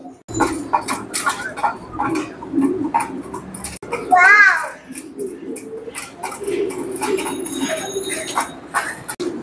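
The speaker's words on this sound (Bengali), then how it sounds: "তো চলেন আপনার খামারে কি কি কবুতর আছে আমরা আগে দর্শকদেরকে একটু দেখাই" Pigeons coo softly at a pigeon farm under ongoing chatter from adults and a child, with a brief louder burst of bird calls partway through.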